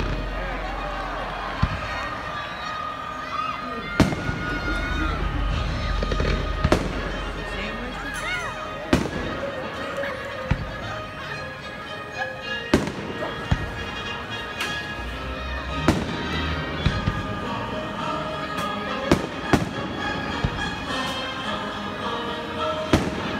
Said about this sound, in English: Enjoy the show as the skies over Cane River light up with the best and brightest